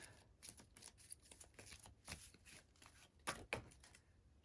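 Chakra oracle cards shuffled by hand in a quiet room: a run of soft, papery riffles and flicks, close and fairly faint, with brief sharper snaps among them and no voices.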